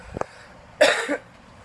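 A single short cough, close and fairly soft, after a faint throat sound in an otherwise quiet room.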